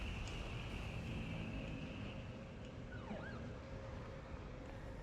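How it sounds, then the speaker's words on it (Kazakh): An ambulance siren from the video game The Evil Within wails faintly in the distance over a steady, low ambient rumble, with a brief rising sweep about midway. "Кім келіп тұрған? Скорый помощь."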